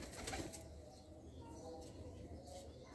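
Soft, low pigeon cooing repeats in short throaty bursts, faint and close, with a hint of voices nearby.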